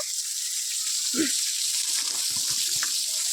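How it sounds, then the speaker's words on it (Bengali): An electric motor pumps water, filling tanks and running water onto the earthen foundation of a new house, producing a steady, even hiss with a brief thump and faint voices mixed in. "মোটর চালিয়েছে, ওগুলো ভরছে, ভরে এগুলোতে জল দেবে।"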